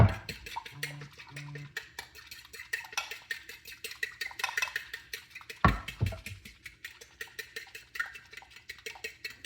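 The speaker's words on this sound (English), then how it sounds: "We're going to whisk this up." A whisk beats a breakfast mixture in a bowl, with fast, rhythmic metallic clinks and scrapes repeating steadily at close range.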